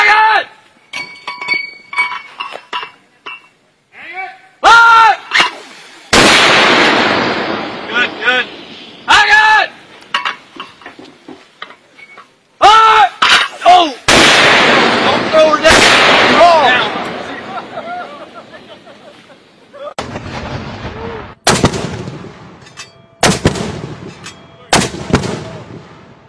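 Shots from an anti-aircraft gun ring out as loud, sharp blasts with long decaying echoes, in irregular groups, close by. Voices are heard between the shots.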